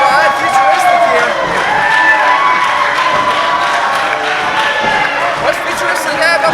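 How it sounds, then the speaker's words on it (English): Crowd at a live pro wrestling event cheering and shouting loudly, a dense steady roar of many voices throughout, with a commentator talking over it. "This crowd getting behind Futuristic here."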